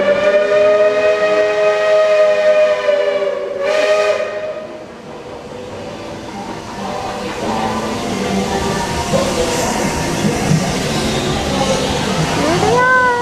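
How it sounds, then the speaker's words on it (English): A steam train arrives at a Magic Kingdom station with a loud, sustained steam whistle blast, then a gush of steam hiss and a mechanical rumble as the train draws near. "train's about to come in."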